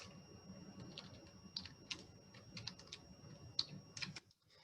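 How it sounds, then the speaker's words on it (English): Computer keyboard shortcuts being typed, a series of quick, sharp key clicks in irregular bursts, close and fairly quiet over a low room hum, ending with a brief silence. "Don't even try to follow my"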